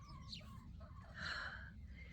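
Chickens cluck softly and steadily while pulling leaves from a tomato plant, with a brighter, louder call near the middle over constant low background rumble.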